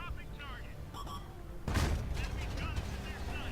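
A tank gun fires a high-explosive round in an armored combat video game, one sharp loud blast partway through followed by a rumbling tail, with game sounds in the background.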